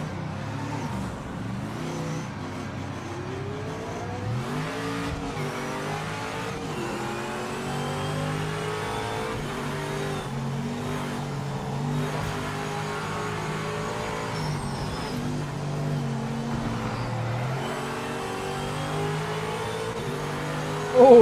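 A race car engine in a sim racing game revs and shifts through gears with a stick shift, pitch climbing and dropping in repeated sweeps, steady and close, with brief tire squeal.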